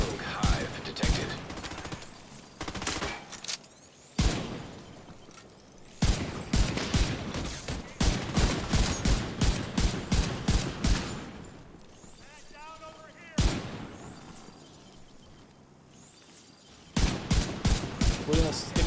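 Rapid bursts of automatic gunfire in the video game The Division 2 come in repeated volleys with short pauses, loud and close, with someone talking over some of the shooting.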